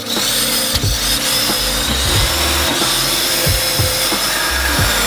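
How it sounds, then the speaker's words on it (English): A BMW N54 engine idles smoothly with its charge pipe and blow-off valve connected, making a loud, steady, close mechanical drone with faint rhythmic pulses underneath. "She quiets way down, nice smooth idle with that connected."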